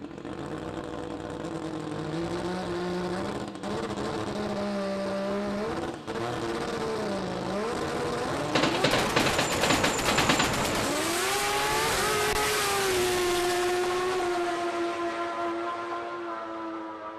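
Nitro funny car RX-7 making a solo drag racing pass, engine note rising and falling through revs with a loud roaring stretch in the middle, continuous and close throughout.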